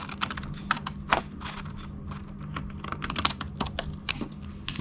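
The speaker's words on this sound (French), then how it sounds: "Je viens découper ce qui dépasse." Scissors cut away excess paper overhanging the edge of a handmade junk journal booklet, giving a dense run of close, crisp snips and rustles over a steady low background hum.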